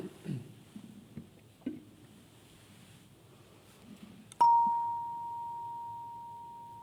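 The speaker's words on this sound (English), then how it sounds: "At this point, I will ring the bell and we will worship together." A single bell is struck to open a church worship service, a bright clear strike after quiet handling noises, leaving a long, steady ringing tone that slowly fades.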